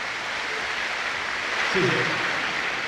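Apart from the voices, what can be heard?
audience applause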